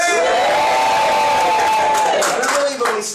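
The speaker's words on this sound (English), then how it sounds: "cheering audience" A live audience at a magic show cheers loudly, with one drawn-out whooping voice rising above the crowd noise.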